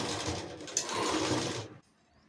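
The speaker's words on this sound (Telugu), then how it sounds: "పెట్టుకున్న తర్వాత దీన్ని క్లోజ్ చేసుకొని నాడ మీద కుట్టుకోవాలి" Sewing machine running steadily for under two seconds while stitching a blouse, close and fairly loud, then stopping abruptly into near silence.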